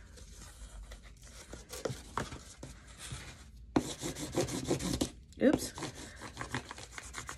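Masking tape being rolled up and over the edge of a cardboard glue book, giving close rubbing, rasping crinkles in bursts with short pauses between, and a brief spoken exclamation.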